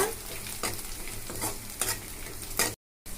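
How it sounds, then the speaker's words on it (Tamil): Dried red chillies and tamarind sautéing in a pan for ginger chutney, giving a steady sizzle broken by repeated scraping stirs, close and moderately loud, before a brief drop to silence near the end. "இந்த ஸ்டேஜ்ல நம்ம காஞ்ச மிளகாய் சேர்த்துக்கலாம். புளி சேர்த்து வதக்கலாங்க."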